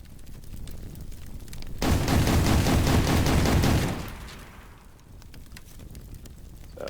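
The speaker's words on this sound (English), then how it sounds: "Dragon's Breath shotgun, useful for catching stuff on fire." A Dragon's Breath shotgun fires in the video game Teardown, letting out a loud, sustained roaring blast of about two seconds that fades into softer crackling and rumble.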